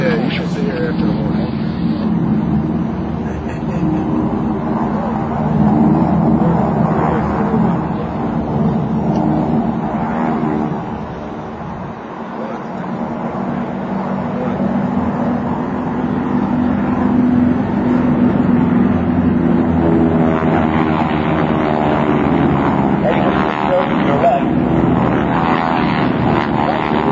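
GEICO Skytypers propeller planes sweep past in a straight formation pass at an air show, a broad droning roar that swells, dips briefly, then builds again, with crowd chatter and announcer talk underneath.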